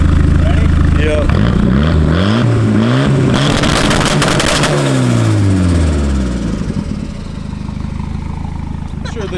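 A Volvo car engine revs up and back down in rising and falling sweeps, loud and close, before settling into a rough idle.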